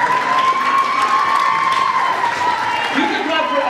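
A crowd applauding and cheering for a student band at a high school Christmas concert, dense continuous clapping with whoops and shouts from young voices, loud and close throughout.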